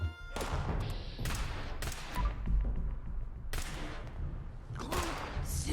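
Gunfire in the video game Fallout 76 comes as several loud, close bursts of shots and thuds, separated by short pauses, with the game's background sound between them.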